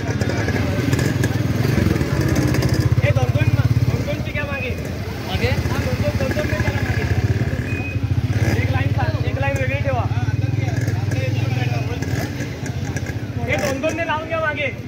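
Motorcycles gathering for a Hindu bike rally welcoming Lord Ram at Ganpatipule, a steady throbbing of several idling bike engines with scattered revs, close by under continuous crowd chatter and shouting.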